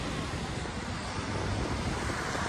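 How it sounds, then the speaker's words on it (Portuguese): Beach at Balneário Camboriú on a mildly windy day, a steady wash of wind noise on the microphone blended with surf, broadband and constant with no distinct wave breaks. "Tem um pouquinho de vento hoje, pessoal."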